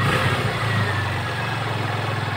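A Honda TMX Supremo 150cc motorcycle engine idles high at a steady, fast rumble, close and continuous with no voices.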